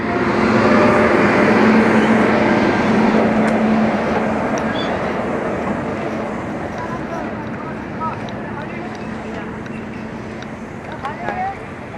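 A passenger train starting to move rumbles steadily from inside a general-class carriage, a low mechanical drone with rattling that gradually eases, with voices murmuring in the background.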